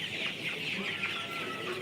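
CPF-3 tiger chickens clucking close by, a busy overlapping chatter of short clucks with no talk.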